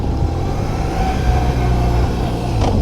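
A BMW R1100 RT motorcycle engine runs steadily and fairly loud throughout, with a low rumbling drone and a slight rise near the end, no one talking.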